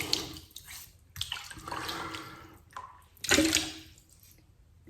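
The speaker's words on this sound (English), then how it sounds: "I'm going to put this to the side and I'm going to start lathering." A brush works shaving soap into a lather for a straight razor shave, making wet squelching and slapping strokes in irregular bursts, close by, with short pauses between the louder swirls.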